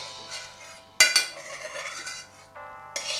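A spoon scraping curd around the inside of a metal cooking pot, giving a sharp clink followed by ringing, scraping metallic strokes, close up with no talk.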